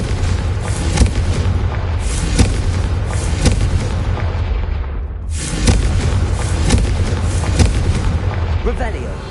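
Confringo spell explosions in the Hogwarts Legacy video game: loud booming blasts over a constant rumbling roar, cut off by a brief drop near the middle before the barrage resumes.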